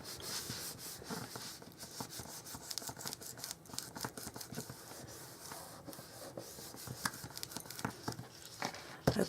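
A wedding invitation card is rubbed down by hand, giving a close, quiet, continuous brushing and scratching with irregular light taps throughout.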